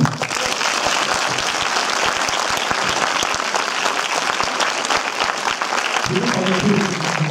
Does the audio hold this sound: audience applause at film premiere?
yes